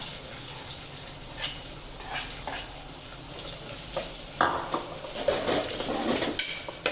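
Drumstick vegetable curry being sautéed and stirred in a pan: a soft background hiss under scattered spatula scrapes and metallic clinks that grow busier toward the end.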